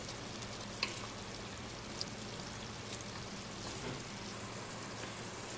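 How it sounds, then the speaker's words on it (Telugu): Chicken coated in masala, including garam masala, cooks in a pan for a gongura chicken curry, giving a steady, even sizzle and crackle throughout with a couple of faint clicks, close and without talk. "ఇలా చికెను మనం మసాలా వేసుకొని కాసేపు బాగా ఉడికించుకోవాలి."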